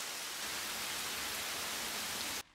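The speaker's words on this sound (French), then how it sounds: "L'averse est arrivée brutalement." A sudden heavy downpour roars in a dense, constant hiss that fills the scene, from an animated children's weather series, cutting off abruptly at the end.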